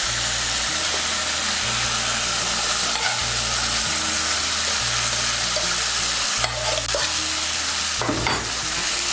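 Boiled banana blossom hitting a pan of cooked-down spice paste and frying, with a loud continuous sizzle and scraping stirring strokes up close, occasional sharper clatters.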